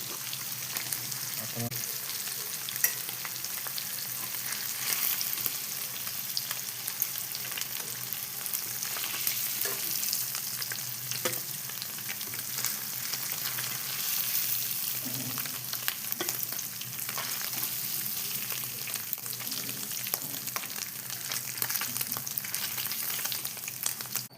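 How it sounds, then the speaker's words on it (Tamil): Steady crackling sizzle of hot oil frying for tempering paneer biryani, continuous and close, with occasional louder pops and faint stirring sounds throughout. "இந்த எண்ணெயை ஊற்றி பிரியாணியும் தாளிச்சிடலாம்."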